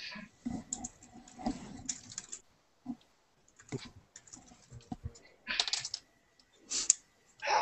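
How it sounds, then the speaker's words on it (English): Computer keyboard typing in bursts of quick clicks and patter, broken by short pauses and a few louder taps, close by and heard alone without talk. "I'm just typing okay"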